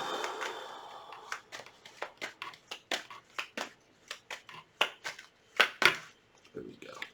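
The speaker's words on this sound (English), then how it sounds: "One more shuffle." Tarot cards being shuffled by hand, a run of crisp riffling snaps and slaps in irregular bursts, close and fairly loud, with no voice over them.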